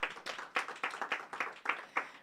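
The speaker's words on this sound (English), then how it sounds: "can we please give him another round of applause?" Applause at a connectivity campaign launch, heard as faint, sparse clapping: a handful of distinct claps spaced in a loose, rhythmic pattern rather than a full crowd ovation.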